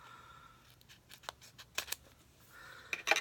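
Several sharp snips and cuts of scissors slicing into a package, with scattered irregular strokes, close and fairly quiet, no talking.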